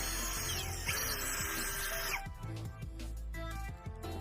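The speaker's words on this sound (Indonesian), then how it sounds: "Ini kita lubangi tepat pada bagian tengahnya." An electric drill bores a hole through the centre of a plastic PVC pipe cap, a loud steady whine for about two seconds that then gives way to quieter intermittent handling and scraping noises.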